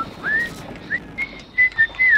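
A man whistles a short tune over online voice chat during a Call of Duty: Ghosts multiplayer match: thin, clear whistled notes in brief bursts, a few separate phrases, the longest near the end, faint background hiss beneath.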